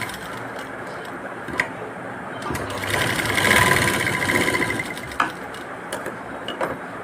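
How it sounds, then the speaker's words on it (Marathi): A sewing machine stitches a square of blouse fabric, a close rapid mechanical whirr with a louder run in the middle and a few clicks and knocks between bursts. "हा चौकोन मी असा शिवून घेतला आहे"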